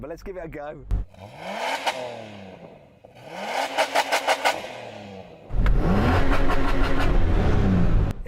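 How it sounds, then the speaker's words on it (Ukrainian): A Nissan car engine revs hard several times toward the red line, climbing in pitch with bursts of throttle, the last rev long and loud, heard close up. "це й точно звучить краще, особливо коли крутиш до червоної зони"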